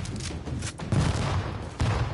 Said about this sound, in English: Oh, he just keeps shooting